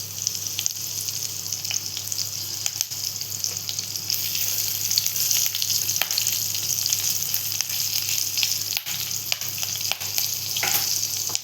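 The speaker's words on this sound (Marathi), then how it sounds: "मग आपण टाकतो हिरवी मिरची," Green chillies fry in hot oil with asafoetida in a pan for a red amaranth greens dish. A steady, dense sizzle carries on throughout, with occasional faint scrapes of stirring and no voices.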